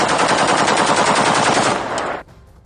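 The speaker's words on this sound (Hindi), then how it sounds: "तो हम ये लगातार आपको गोलियों की आवाज भी सुनवा रहे हैं।" Rapid sustained gunfire from rebels at the presidential palace in Syria rattles in a dense, loud burst of fast automatic shots lasting about two seconds before abruptly cutting to quieter background noise.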